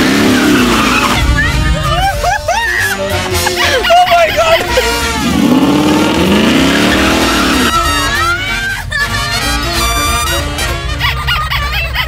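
A car spun in place with its tires skidding, heard as a loud, sustained screech with engine noise, mixed with lively voices and music throughout.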